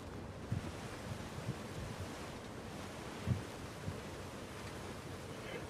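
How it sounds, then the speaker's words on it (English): Flowing water in the video game God of War Ragnarok, a faint, continuous rushing wash with a few soft low thumps throughout. "Sounds like you got the water moving along"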